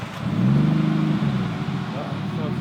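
Nissan R32 Skyline engine revving close by at a car meet, a steady throaty drone that swells near the start then settles to a rumbling idle, with voices in the background.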